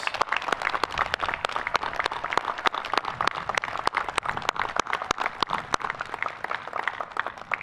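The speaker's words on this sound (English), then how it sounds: "Please join me in a round of applause." Applause rings out at a Coast Guard Academy commencement, a crowd clapping in sharp, rapid, continuous bursts that stay loud and close from start to finish.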